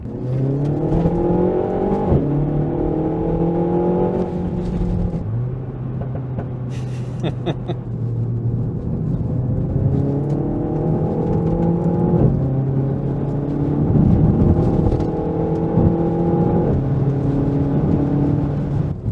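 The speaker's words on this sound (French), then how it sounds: "Et et ça rétrograde et ça pète directement" Renault Mégane 4 RS Ultime engine downshifting through the gears, each shift marked by a sharp rev blip as pitch jumps, with exhaust pops and crackles, loud and close from inside the car throughout.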